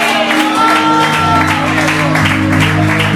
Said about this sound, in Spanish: Denle un aplauso a Cristo, amado